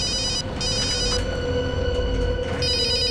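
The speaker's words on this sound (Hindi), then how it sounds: "अभिजीत का फोन।" A telephone rings with a steady electronic trill, loud and continuous over a low background hum, with a short dip in between bursts and no voices.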